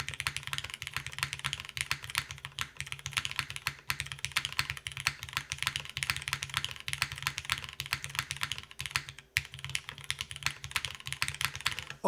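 Close, continuous typing on a mechanical keyboard with lubed, spring-swapped Cherry Hyperglide switches on an aluminum plate, a dense run of full, rapid keystrokes with no talking.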